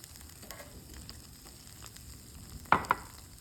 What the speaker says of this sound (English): here, we have shallots and garlic. Going to pan fry this real lightly.